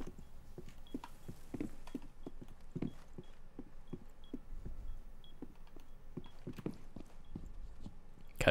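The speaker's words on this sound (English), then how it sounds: "The footsteps are, like, insane." Rapid, repeated footsteps from operators moving through a map in Rainbow Six Siege, a steady run of close thuds and scuffs with faint game ambience, no talking.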